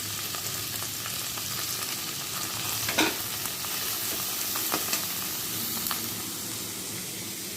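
Onions frying in oil left from browning chicken, a loud continuous sizzle broken by sharp scrapes of stirring, close up with no voices.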